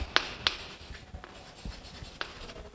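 Chalk or marker writing on a classroom board during a physics lecture on torques: a few short, separated scratchy taps and strokes, faint and close, with no talking.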